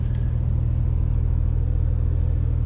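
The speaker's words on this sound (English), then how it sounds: "They've really tuned the exhaust to make it much more of a fun and, you know, sportier car to hear and to drive" A 2020 Porsche 911 Carrera 4S (992) with a tuned sports exhaust gives a deep, steady engine rumble, close and continuous with no voices over it.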